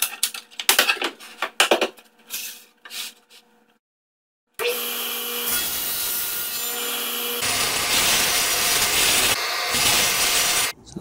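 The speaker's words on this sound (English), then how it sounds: "I think I can use it to cut the side supports" A saw rips through wooden side supports on a homemade crosscut sled, loud and sustained after some earlier knocks and handling of wood, with a brief pause in the cutting near the end.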